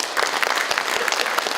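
Audience applause at a Korean political emergency forum, a steady dense clatter of many hands clapping for about a second and a half with no talk over it.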